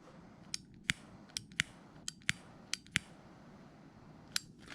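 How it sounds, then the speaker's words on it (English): A Zippo lighter handled up close: a series of sharp metallic clicks and snaps from the lid and hinge, about ten quick distinct ticks spread irregularly over a quiet background. "So that is my Zippo."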